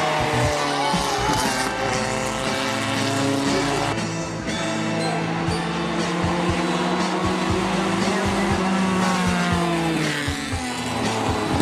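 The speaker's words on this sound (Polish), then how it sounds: "Do rywalizacji podczas zawodów w Banowcach stanęły również historyczne formuły zawodników z Niemiec i Austrii" Historic formula race cars climb a hill-climb course at Banovce in Slovakia, their engines roaring loud and continuous, revving and shifting throughout with a steady dense drone.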